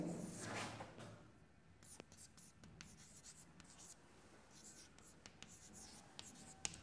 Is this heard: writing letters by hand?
yes